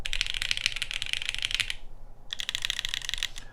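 Fast, steady typing on an Element G67 custom mechanical keyboard with a stainless steel top and brass bottom, crisp clicky keys heard up close, pausing briefly before the burst of keystrokes resumes.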